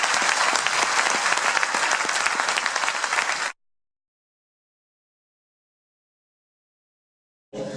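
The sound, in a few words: applause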